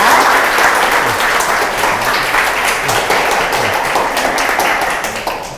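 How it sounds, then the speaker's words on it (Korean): Sustained, loud audience applause fills the room at a Friday public science lecture as a physics professor is introduced, steady dense clapping from many hands that tapers slightly at the end. "큰 박수 부탁드립니다."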